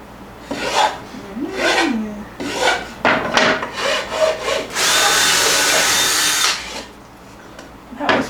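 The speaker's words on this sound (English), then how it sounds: "Done filing already?" Wood is filed by hand for a van's convertible bed, a series of rough rasping strokes up close, ending in one long sustained scrape, with faint voices in the background.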